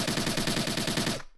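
Rapid automatic gunfire in a zombie survival video game, about a dozen evenly spaced loud shots in a quick burst that stops abruptly.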